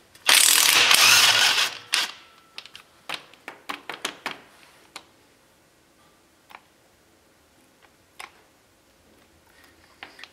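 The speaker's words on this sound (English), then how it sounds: "I'm gonna take these nuts off. They're 9/16." A hand ratchet removes 9/16 flange nuts from a 1980 Chevy Silverado Dana 44 front axle: a loud burst of fast clicking, then several shorter ratcheting strokes that grow sparse and quieter, close up with no talk.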